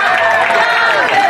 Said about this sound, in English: As you can hear, the graded fans cheering on for Yasser